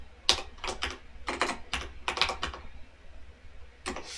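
Keys clatter on a computer keyboard as a search query is typed, coming in quick irregular bursts of clicks with short pauses between, close and clear with no voices.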